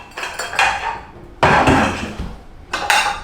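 Ceramic plates clink and clatter together in three bursts of handling, close by, with no talking.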